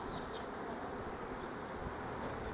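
Honey bees buzzing at a beehive in a spring apiary, a dense, steady drone of many insects close by, continuous and loud with no voices.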